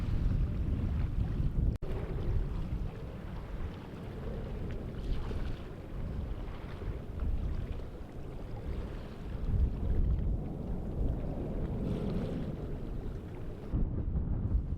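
Heavy low rumbling buffets of wind striking a microphone outdoors on a blustery coast, gusting unevenly and swelling at moments, with no voices.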